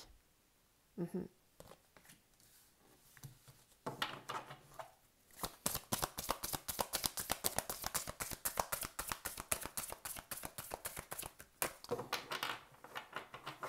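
Tarot cards are shuffled and drawn: a long run of rapid, crisp riffling clicks builds after a few quiet seconds, then pauses briefly and returns, fairly close and moderately loud.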